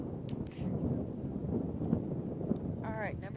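Strong, gusty wind roars steadily into the microphone at a high school baseball game, a continuous low rumble with a brief whistling tone near the end.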